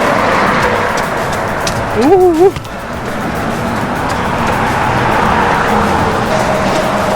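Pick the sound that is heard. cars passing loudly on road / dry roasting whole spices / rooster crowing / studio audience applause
cars passing loudly on road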